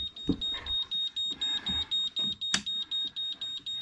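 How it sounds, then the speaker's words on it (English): A boat's navigation waypoint arrival alarm beeps steadily in a fast, regular rhythm while sailing, with faint rustling and movement underneath. "waypoint arrival alarm"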